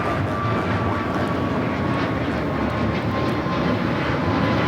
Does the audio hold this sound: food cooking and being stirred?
no